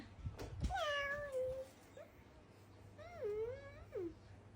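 A young child imitates a cat with her voice, giving a long, drawn-out meow, then a short one. A second wavering meow follows, then a final clipped meow, heard close and fairly quiet.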